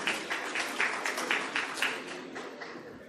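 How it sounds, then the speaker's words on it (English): An audience at an investor event claps for a panelist. Scattered, fairly light applause carries a loose rhythm of separate claps and fades toward the end. "So big round of applause for Mike"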